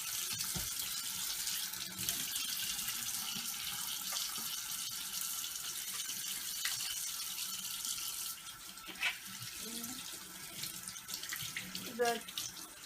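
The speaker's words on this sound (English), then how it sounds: "we have to wash our hands for a length of 30 seconds" A kitchen tap runs steadily into a sink while hands are washed beneath it, a constant close hiss of flowing water that thins near the end into a few splashes and drips.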